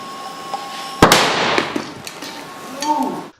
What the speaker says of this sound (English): how violent and erratic this explosion can be, this was merely 350 milligrams of sodium